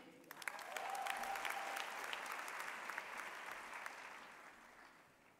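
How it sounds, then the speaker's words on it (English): Applause rises and holds at a university autumn graduation ceremony, a distant audience clapping steadily in a large hall, fairly faint and reverberant, thinning toward the end. "You can clap harder."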